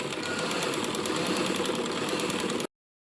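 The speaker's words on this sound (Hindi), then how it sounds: "यहाँ से अब हमने इस तरह सिलाई साथ साथ लगाते आना है" A sewing machine stitches a neck placket, giving a continuous, fast mechanical whir with a rapid rhythmic clatter. It runs steadily at close range for over two seconds, then stops abruptly.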